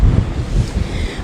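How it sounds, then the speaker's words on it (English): Strong gusts on a lakefront seawall with white-capped waves, heavy wind buffeting the microphone in a loud low rumble that stays constant without any speech. "The strong winds we've been feeling today, they're actually pushing white-capped waves over the lakefront seawall still at this hour."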